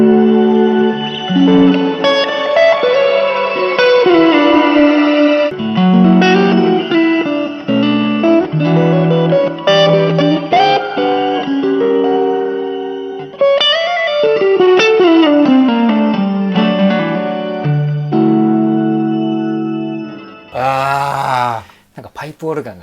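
Electric guitar played through a Zoom spatial-effects multi-stomp blended with warm, mid-pushing distortion, giving a reverberant, organ-like swell. Sustained, echoing chords ring out loudly and continuously, with no talking.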